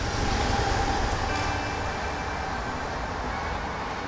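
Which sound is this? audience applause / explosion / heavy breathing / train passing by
train passing by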